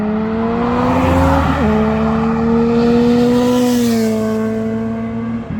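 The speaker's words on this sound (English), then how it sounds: "Which does come with a silencer, which we took out, and it just sounds so much better." A Suzuki Bandit GSF1200 motorcycle with its exhaust silencer removed idles and revs steadily nearby, loud and throaty, with a deep uneven exhaust rumble that dips briefly in pitch then holds.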